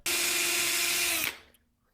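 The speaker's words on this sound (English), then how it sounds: "And he's drilling into what we think to be a UAP." A power drill bores loudly into an unidentified object, a steady high whine running for over a second before cutting off abruptly, leaving near silence.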